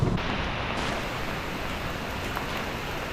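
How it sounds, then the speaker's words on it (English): Steady rain patters on the roof of a camper, a dense, even wash of broadband hiss that stays constant throughout with no voices. "It's raining"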